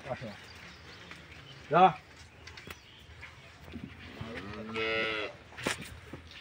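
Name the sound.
cow mooing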